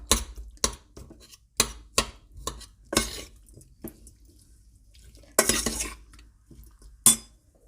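Sliced shallots are stirred and tossed into a pork salad in a bowl, with repeated clinks and scrapes of a utensil against dishware at an uneven rhythm, close and fairly quiet.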